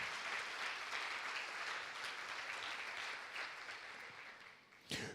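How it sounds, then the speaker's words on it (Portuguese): A church congregation gives a round of applause for Christ's victory, the clapping a sustained, moderately distant wash that thins slightly toward the end before a brief louder burst. "Quem pode dar uma salva de palmas pela vitória que Cristo nos deu na cruz do Calvário?"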